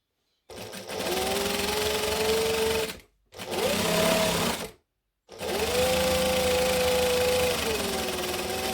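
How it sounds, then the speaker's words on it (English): A sewing machine stitching fabric for Christmas shorts runs in three steady bursts with short pauses between them, a close, loud whirring hum with a slight pitch rise at the start of each run. "And then we're going to back stitch at the end."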